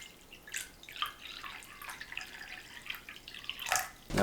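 Water trickles and splashes into a bowl holding a flour, potato starch and salt mix, a faint, uneven pouring sound close by with no talking.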